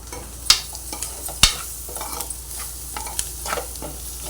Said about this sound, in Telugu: మూత తీసుకుని ఉల్లిపాయలు వేగే చూస్తున్నానండి